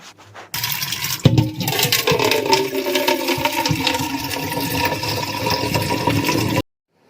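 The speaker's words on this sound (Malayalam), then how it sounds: "ഞാനിതാ എൻ്റെ വെള്ളം കുപ്പി നിറച്ചുകൊണ്ട് നിൽക്കുകയാണ് കേട്ടോ" Water runs steadily into a bottle for several seconds, a continuous splashing, gurgling stream close by, with a sharp clink near the start.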